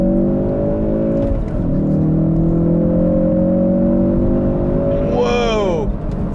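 A 2016-2018 Ford Focus RS engine drones loud and steady, then its pitch sweeps sharply downward near the end as the car brakes hard, with a high whine rising over it.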